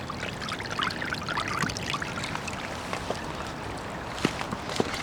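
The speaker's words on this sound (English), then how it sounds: "So now this dam is working and it's flowing nicely now." Water from a flooding pond flows out through a small dam, a soft, steady pouring and trickling heard fairly quietly, with a few small splashes or knocks near the end and no talk.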